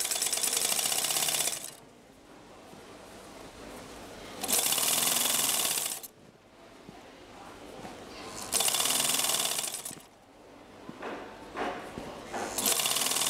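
A sewing machine runs in three long bursts of steady, rapid stitching along a fabric hem for a bonnet costume, with quieter handling and pauses between runs.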